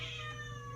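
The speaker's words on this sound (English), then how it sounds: "Please excuse that cat." One drawn-out cat meow sounds indoors, fairly faint, its pitch sliding slightly downward, over a constant low mains hum with no speech.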